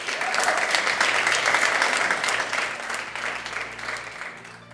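Studio audience on a Spanish TV school quiz show breaks into loud sustained applause, a dense crowd of clapping that gradually fades over several seconds.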